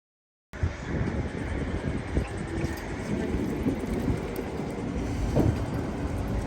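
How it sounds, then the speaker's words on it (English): Riding inside a moving train in Stockholm: a steady rumbling interior roar with low mechanical clatter and faint rhythmic thumps that starts abruptly and continues evenly. "We are on a train, on a train, on a train."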